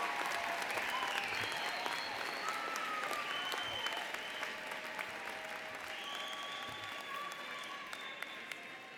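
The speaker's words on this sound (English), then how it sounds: "Please give a round of applause to these graduates who have devoted so many years to be here today." Applause for new doctoral graduates at a university College of Education spring commencement ceremony, a sustained even roar of many hands clapping in a large hall, moderately distant and steady throughout.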